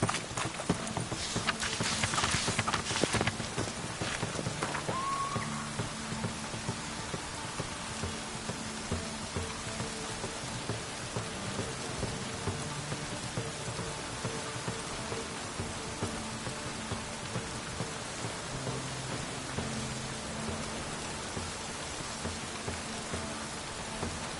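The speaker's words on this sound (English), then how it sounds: "Rain?" Steady rain falls in The Witcher video game, a dense, even hiss that runs the whole time, with a rhythmic clopping alongside and no voices.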